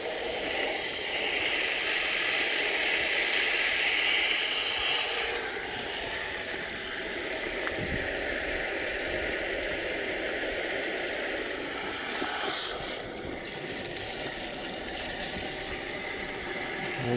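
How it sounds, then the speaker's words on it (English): Water rushing steadily from a garden hose, a loud continuous hiss that runs unbroken for the whole stretch with only a slight dip in level partway through. "This is the water coming through."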